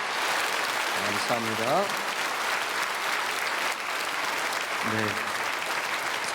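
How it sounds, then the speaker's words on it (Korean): A church congregation at a Sunday service gives a long, steady round of applause to welcome newly registered members. The wash of clapping holds at an even level throughout, while a voice speaks briefly over it twice. "우리 크게 박수로 환영하겠습니다."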